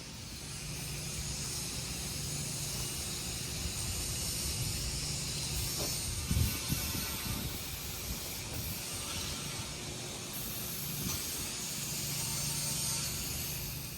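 A spray gun lays a base coat of paint on a 1949 Meteor, producing a soft, continuous hiss of atomized spray with small fluctuations as the passes go on. Fairly quiet, with no speech.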